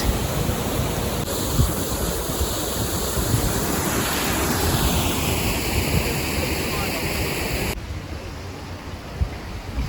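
Water rushes steadily and loudly as the top lock of a canal fills for a narrowboat. The roar stays constant and close for most of the stretch, then eases slightly near the end.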